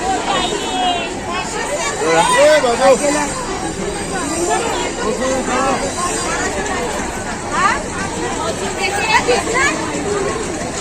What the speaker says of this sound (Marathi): गर्दी भरपूर आहे.